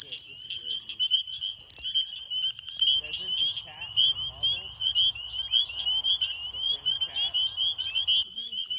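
Spring peeper frogs calling in a wetland, a chorus of high, piercing repeated peeps layered with trilling, fairly close and continuous, with low murmuring voices and handling noise beneath.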